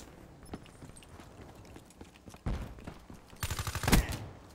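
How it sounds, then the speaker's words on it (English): Shotgun blasts in the video game Black Ops 3: scattered soft clicks and steps, then a sudden loud boom and a second cluster of heavy shots near the end. "And of course, it's a shotgun."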